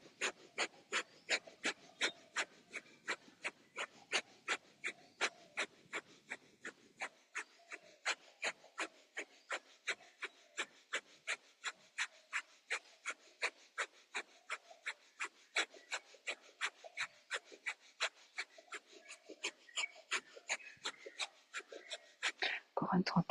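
Breath of fire breathing exercise: a long run of sharp, evenly spaced exhalations, about two per second, forceful and close, pumping steadily for over twenty seconds before a final rougher breath.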